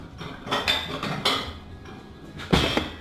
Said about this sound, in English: Just swirl it around there, and I'm just going to put a plate over it